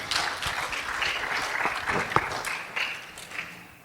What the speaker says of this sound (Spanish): Démosle un fuerte aplauso de bienvenida